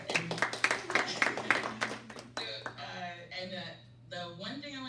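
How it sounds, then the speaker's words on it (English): A classroom group claps in a short burst of applause lasting about two seconds, then a voice talks over a quiet room. "I want to applaud you again"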